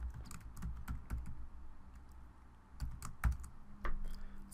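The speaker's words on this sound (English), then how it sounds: "we'll go ahead and we'll type in viewing screen" Someone types a short entry on a computer keyboard in template-editing software, with a steady run of close key clicks and a brief pause midway before a few more presses.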